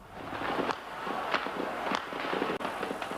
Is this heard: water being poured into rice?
no